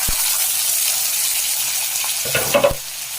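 Steady bright sizzling of chopped small onions frying in hot oil, with a few clinks and a brief stir near the end.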